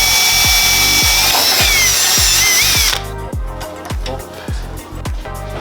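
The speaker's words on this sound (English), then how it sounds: "now we're drilling our first hole" Loud power drill whining steadily as it bores through material, pitch shifting as the bit bites, with a repeating low thumping rhythm underneath.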